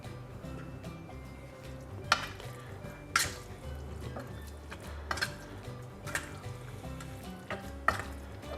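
Minced pork soaked with blood for Northern Thai larb is mixed in a bowl, with a wet, soft squelching churn punctuated by several sharp utensil clinks against the dish, close up and without speech.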